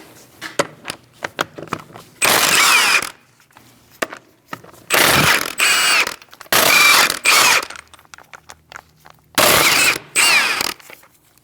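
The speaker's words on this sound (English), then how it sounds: "Using a 17mm socket, we're going to remove our wheel." A 17mm socket on a ratchet wrench loosens the wheel nuts on a 2000-2006 Mini Cooper. Sharp bursts of rapid ratcheting clicks repeat four times, loud and close, separated by quieter tapping and handling noises.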